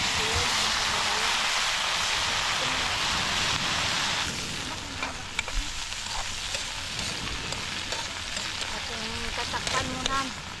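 Garlic and onion hitting hot cooking oil in a pan for eggplant adobo, a loud steady sizzle that drops slightly once the aromatics go in, with faint stirring clatter and occasional voices over it.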